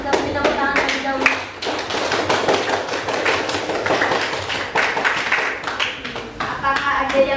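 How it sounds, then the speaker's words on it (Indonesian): Classroom applause at a high school debate in Indonesia, a steady patter of many hands clapping together, close and fairly loud, lasting several seconds with no talk over it. "Kita beri tepuk tangan terlebih dahulu."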